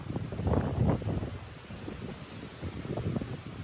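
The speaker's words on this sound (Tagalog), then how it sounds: "Sarap ng hangin." Wind on a coastal mountain trail in British Columbia, a soft, gusty rush buffeting the microphone in uneven swells, fairly faint and with no voices.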